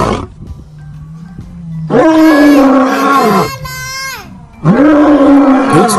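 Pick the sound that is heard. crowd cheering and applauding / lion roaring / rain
lion roaring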